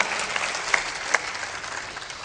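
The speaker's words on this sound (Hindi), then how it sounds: "जोरदार ताली भी बजाना चाहिए।" An audience at a religious discourse claps continuously, a dense steady wash of applause with a few sharper claps standing out.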